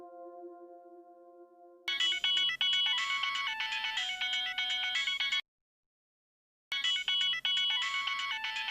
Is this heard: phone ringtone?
yes